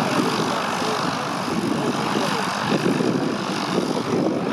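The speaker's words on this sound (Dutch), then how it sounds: "Maar dat vliegtuig hiervoor, die loopt even weg te draaien." A propeller aircraft engine runs at steady high power on the ground in the Netherlands, a loud, dense, continuous roar with no break for several seconds.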